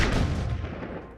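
One heavy gunshot fired during gun testing outdoors, a loud close blast with a booming decaying tail.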